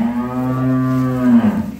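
A dairy cow at a cattle farm lets out one long, loud moo lasting nearly two seconds, steady and close, with no talking over it.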